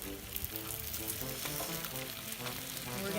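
Tortillas frying in a hot pan for crispy discada tacos give a steady, close sizzle with light crackle and faint stirring, continuous and fairly loud throughout.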